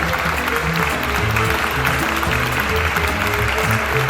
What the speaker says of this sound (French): Je vous laisse l'accueillir sous les applaudissements.